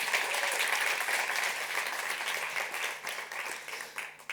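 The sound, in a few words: audience applause at an IDFA 2022 industry talk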